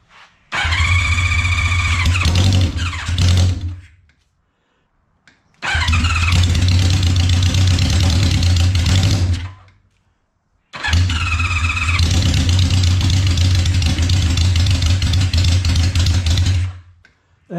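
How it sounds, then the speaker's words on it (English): A 1972 Honda CB500 Four motorcycle being cranked cold with no choke: three loud, close bursts of starter cranking and rough engine firing, each lasting a few seconds and separated by brief silences. "let's see what happens when I hit the starter,"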